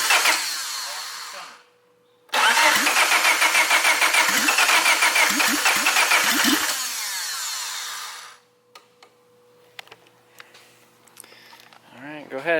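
A turbocharged Honda Civic engine cranks and catches, roaring loudly and steadily for several seconds before cutting off, followed by clanks and short bursts of people talking nearby.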